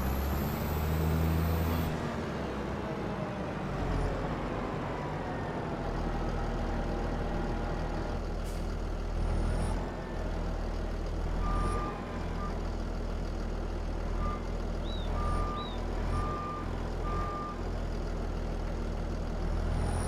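A truck train in Farming Simulator 25, a steady low engine rumble with idling and driving tones, brief beeps that may be reversing alerts, and a short air-brake-like hiss at the start.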